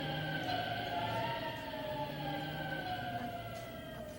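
A fire engine siren wails steadily on its own for about four seconds, its rising and falling tone loud and fairly close, with no voices over it.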